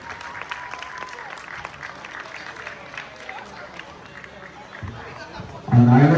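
Crowd applause for the top scorer at a tournament, steady clapping and cheering throughout, with chatter mixed in and a louder burst of sound near the end.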